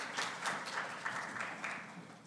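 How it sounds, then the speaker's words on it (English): Audience applause at a CARICOM conference on the human impacts of autonomous weapons, sending off a departing panel: a fairly faint, steady wash of clapping with slight swells, no talk over it. "Please give a round of applause to this very great group that's leaving the stage now."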